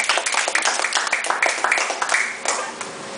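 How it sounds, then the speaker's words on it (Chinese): Audience applause after a gaohu ensemble performance of Chinese huqin music, a dense run of many hands clapping at steady volume, fairly close, easing slightly near the end. "再次热情掌声。"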